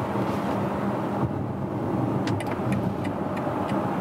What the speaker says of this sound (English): I'm putting it to the max e-drive mode, acceleration from 40 kilometers to, let's see, all electric